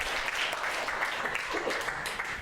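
A stand-up comedy show audience applauding, a dense steady wash of many hands clapping at once, fairly loud and sustained throughout.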